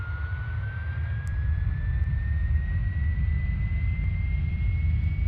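Left jet engine of a Carenado 390 Premier business jet spooling up at start in a flight simulator, a steady low roar with a thin whine rising slowly in pitch throughout.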